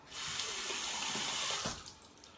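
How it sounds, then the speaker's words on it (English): Water from a tap runs over an eyeliner pencil in a sink, a steady close splashing stream that starts abruptly and tapers off near the end, with no talking. "So I'm gonna go ahead and run that under some water right now."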